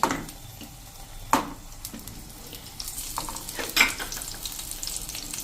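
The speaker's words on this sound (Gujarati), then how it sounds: "એને આપણે આ તેલમાં જ મૂકી દઈશું" Halved tomatoes sizzle in hot oil in a pan, a steady close crackle punctuated by a few sharp clinks and scrapes, with no talk.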